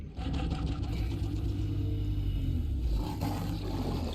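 A sand shark growls in the underwater video game Subnautica, a continuous rough, rumbling snarl like a wild cat, steady and fairly loud for about four seconds with a brief shift near the end.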